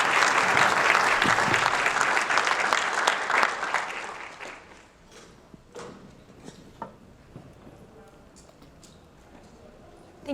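A conference audience applauds to welcome a keynote speaker: loud, dense clapping for about four seconds that thins out and fades, leaving a few scattered claps and small clicks.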